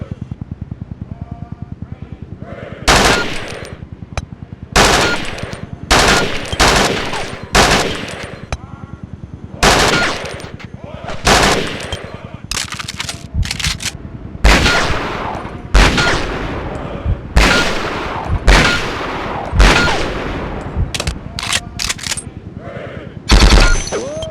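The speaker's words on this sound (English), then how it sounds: "I'm gonna activate 20 targets now. I want all of you to get a feel for your weapons." Rifle and machine-gun fire on a desert training range in the Conflict: Desert Storm 2 video game, loud repeated bursts and single shots rattling steadily over about twenty seconds, with no talk.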